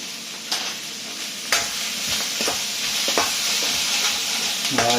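Garlic fries in a hot pan with chicken, onions and bell peppers, a steady loud sizzle running throughout while a utensil scrapes and stirs in a few sharp strokes, no voices.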